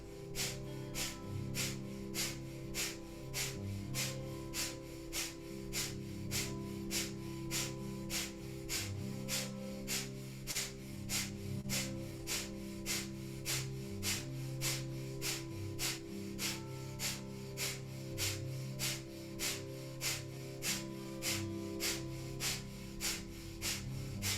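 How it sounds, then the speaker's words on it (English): Rapid, rhythmic breathing through the nose in a kundalini yoga kriya, a steady stream of short pumping breaths driven from the navel, heard softly over background music. "just pumping the navel, like panting like a dog through the nose"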